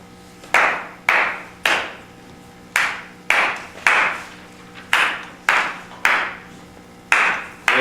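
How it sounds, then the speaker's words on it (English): Hands clap a steady beat during an African drumming demonstration, about a dozen sharp, close, ringing claps in a regular rhythm with short pauses, with no talking over them. "I'm going to clap a beat."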